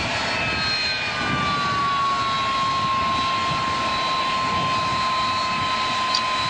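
A Delta Boeing 727 jet lands with a loud, steady engine roar and a sustained high whine filling the cabin. No speech is heard.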